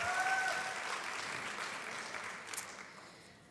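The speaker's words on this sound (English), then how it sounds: "Yes, please give them another round of applause." A pageant audience claps for an all-star dance academy, with steady, fairly soft applause that gradually tapers off. No one speaks.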